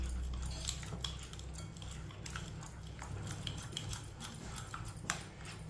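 A spoon scrapes and clinks in a bowl as a thick spice paste for chicken is mixed. Small taps and wet stirring sounds repeat steadily over a low background hum, and no one speaks.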